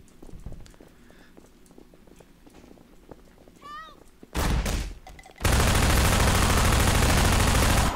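Shotgun gunfire in the video game Half-Life 2 comes as a sudden loud blast followed by a sustained, harsh barrage of shots after quieter game ambience.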